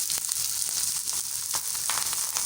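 A mooli (radish) paratha cooks on a hot griddle, giving a close, continuous sizzle and crackle with small bursts of spitting oil.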